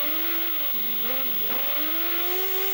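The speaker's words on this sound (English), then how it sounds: "Listen to the revs as they go down and up towards Druids." An F1 sidecar racing outfit at Brands Hatch, heard from a nose-mounted camera, its engine revving high and steady, then dropping and climbing again through quick gear changes, loud and close.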